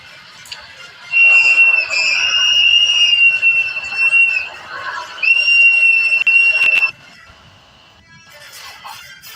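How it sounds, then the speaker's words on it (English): Loud, shrill whistles blown by protesters in the Twin Cities in two long sustained blasts, piercing over a noisy outdoor crowd background. "all around the Twin Cities, you hear these ear-piercing whistles"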